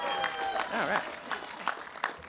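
An audience applauds at a college graduation ceremony, steady clapping filling the space while someone speaks briefly over it.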